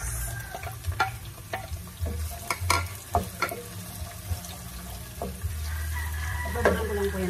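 Onion and ginger sauté in a pan for ginataang, giving a soft, continuous sizzle broken by intermittent clinks and scraping stirs at a moderate distance.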